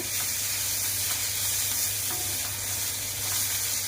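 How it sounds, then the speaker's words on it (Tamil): Curry leaves sautéing in hot oil for a Tirunelveli sodhi kuzhambu, a dense, unbroken sizzling hiss close up with faint stirring scrapes underneath and no voices. "கருவேப்பிலை வதங்கட்டும்."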